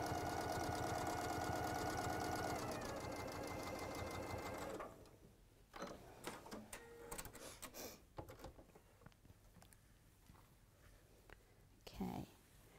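A sewing machine stitches quilt pieces in a fast, steady whirring run for about five seconds, then stops, leaving quiet handling noises and light clicks while people talk.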